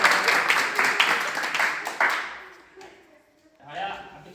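Audience applause at a village election rally, a steady patter of many hands that fades out, with a speaker's voice mixed in.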